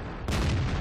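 An AMX 50 100 tank's cannon fires on the Sacred Valley map in World of Tanks, a single sudden loud boom that cuts in and rolls on with a heavy, sustained rumble.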